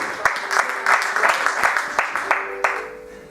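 Church congregation applauding during a French-language worship service, a dense burst of clapping lasting a few seconds, fairly loud and steady with a few sharper claps standing out.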